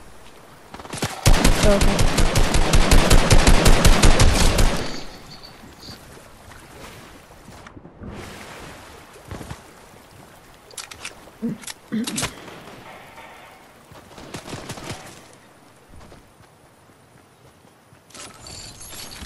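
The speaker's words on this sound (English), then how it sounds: "Somebody's shooting at you, babe." Rapid automatic gunfire in the video game Fortnite, a loud sustained burst followed by scattered shorter volleys and single shots, with players talking over the game sounds.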